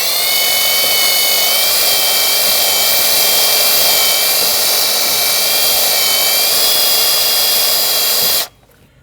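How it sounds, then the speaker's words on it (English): A bore tool spins at high speed while cleaning out the ABS sensor hole on a 2013-2019 Ford Escape, giving a loud, steady, piercing whine that cuts off abruptly near the end. "Before you reinstall your sensor, you need to clean your sensor hole and your mounting surface. You can use a bore tool like this."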